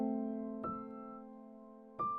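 Sustained piano chords in a liquid drum and bass track built in Ableton, one long held chord followed by two fresh strikes, clean and alone with no drums.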